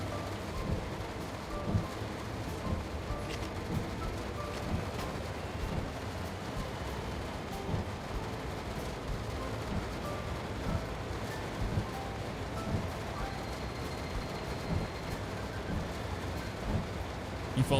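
Steady rain with low rumbles of thunder during a thunderstorm in Train Sim World 5, an even wash of noise that runs throughout, with occasional soft crackles and distant booms.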